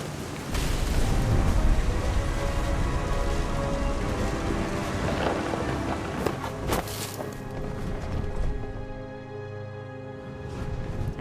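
Steady rain washes over a thunderstorm in What Remains of Edith Finch, with a sharp crack and rolling rumble of thunder near the middle before the downpour eases into a quieter, lighter patter.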